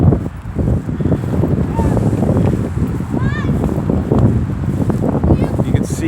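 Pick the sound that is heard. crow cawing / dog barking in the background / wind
wind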